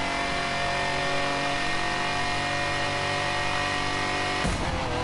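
A car engine revs hard and steadily against the rev limiter for several seconds, loud and close, then cuts off abruptly near the end.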